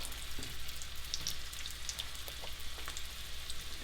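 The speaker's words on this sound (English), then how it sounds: "on some hot oil, we're just going to brown off the meatballs to start with and just lay them into the oil" Meatballs browning in hot oil, a steady soft sizzle and crackle with faint scattered pops, close and even throughout with no talk.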